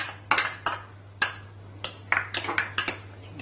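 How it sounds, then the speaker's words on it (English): A spoon scrapes and taps against a mixing bowl while low-fat yogurt is scooped in. The nearby clinks and knocks come in about a dozen sharp, irregular strikes with no talking. "I've got 250 grams of low-fat yogurt, which I'm going to put in a mixing bowl"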